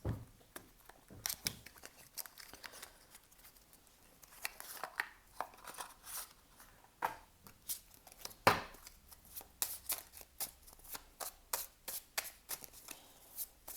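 Love Oracle cards being shuffled by hand, a steady run of quick papery riffles and soft snaps, close and fairly quiet, with no talking.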